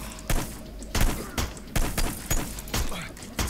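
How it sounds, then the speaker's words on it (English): Gunfire in Hitman: Blood Money, a string of sharp shots in an irregular rhythm, roughly seven or eight loud cracks over a few seconds against a noisy game background. "she's gonna pick up a gun and start shooting at me"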